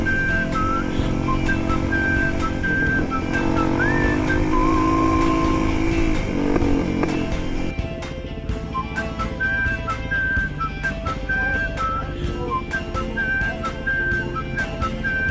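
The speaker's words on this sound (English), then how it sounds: "Now snap it when you come out of the corner, see that wheel spinning." A motorcycle accelerates hard out of a corner with its rear wheel spinning, the engine revving and rising in pitch in a sustained, close, loud drone with a steady rushing wind noise throughout.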